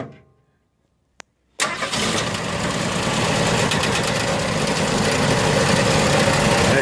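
Starter on a 1981 Ford F150 custom with a no-start fault, jumped at the solenoid with a screwdriver: a sharp single click, then a loud, sustained engine cranking and running roar that fills the rest of the clip.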